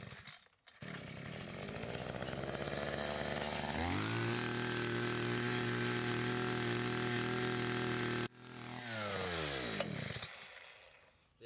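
A petrol earth auger digs a metre-deep hole for a house extension in Chile, its small two-stroke engine revving up, holding a loud steady drone under load, then dropping briefly before revving again and winding down.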